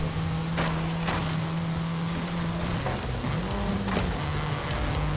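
Volkswagen Golf R car driving in a video game, a steady low engine drone that holds and then dips and bends in pitch, with sharp clicks and knocks over a constant background rumble.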